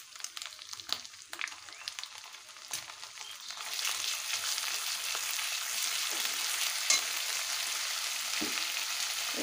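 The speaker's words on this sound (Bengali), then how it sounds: "এবারে দিয়ে দেব বেটে রাখা পেঁয়াজ।" Ground onion paste sizzles in a hot oily pan for an egg curry, starting with scattered crackles and scraping, then settling into a steady, loud frying hiss.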